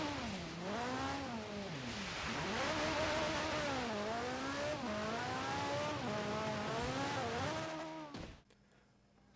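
Engine of a Lancia Stratos in a racing video game, loud and continuous, rising and falling through repeated gear changes and revs for several seconds before cutting off abruptly near the end.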